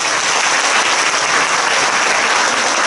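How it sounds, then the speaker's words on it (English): Loud, sustained round of applause from an audience at a business success-story speech, close and dense clapping throughout with no talking. "Can you give them a big round of applause?"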